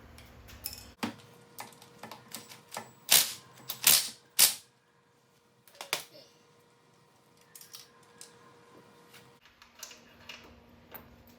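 Ratchet with a 10mm socket working a bolt on a Honda 400EX quad during clutch work, giving short clicking bursts and a few sharp metallic snaps, close and fairly quiet, with brief pauses and low background noise between.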